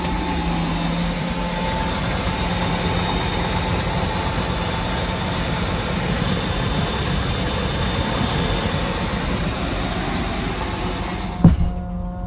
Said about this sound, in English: that whining, that's really annoying, that's the fuel pump